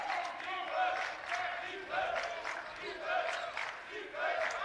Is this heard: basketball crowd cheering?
yes